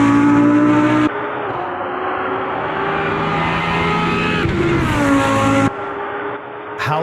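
A Lamborghini race car in the Automobilista 2 racing game roars up close, its engine note shifting as it revs and changes pitch, with a sharp drop and a swell of revs near the end.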